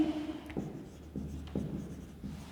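Pen scratching on paper during an accounting lesson, quiet and close, with a handful of short separate strokes and pauses in between.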